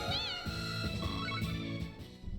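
A cartoonish cat meows in a short run of cute, high calls over game music, heard within the Trails in the Sky the 3rd video game.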